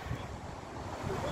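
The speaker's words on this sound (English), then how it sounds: "It's so windy." Steady wind blowing hard across the microphone outdoors at a theme park construction site, a constant low roar and rumble with no clear breaks.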